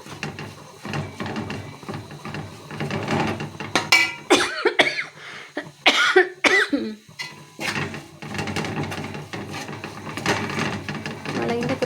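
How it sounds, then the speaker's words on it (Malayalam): A cook coughs in several harsh bursts from chili fumes while frying soya chunks with masala, the coughs close and loud between stretches of talk and kitchen clatter. "മുളകിൻ്റെ കുത്തിലടിച്ചിട്ട് ചുമ വരുന്നുണ്ട് കേട്ടോ."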